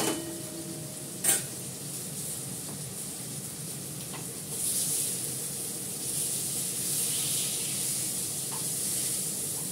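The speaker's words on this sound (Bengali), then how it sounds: "মাছটাকে ভেজে তুলে নিই" Fish fries in a pan with chopped green chillies, a continuous close sizzling hiss with a sharp clank of a utensil early on and the frying swelling louder partway through.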